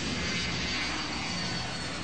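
A jet aircraft taking off from a tarmac runway, a loud, steady broadband engine roar that fills the whole stretch without a break.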